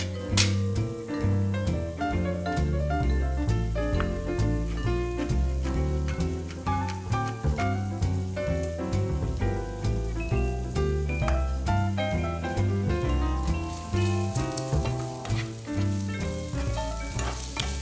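Guanciale sizzles and browns in plenty of oil in a pan, a dense, continuous crackle of frying. Music plays throughout and no voices are heard.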